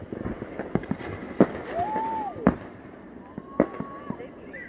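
Fireworks go off outdoors for Independence Day: several sharp bangs a second or so apart, one whistling rocket rising between them, with people talking nearby.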